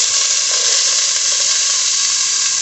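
Celery sizzles in hot olive oil in a pan for homemade chili, giving a loud, even frying hiss that stays constant throughout with no voices.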